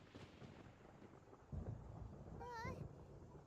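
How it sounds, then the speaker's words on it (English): Thunder from the Genshin Impact video game rolls in as a deep, loud rumble that swells midway and holds, with a brief tonal voice-like sound over it. "Paimon hears thunder!"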